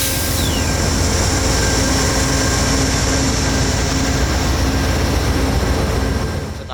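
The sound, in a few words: passenger train at night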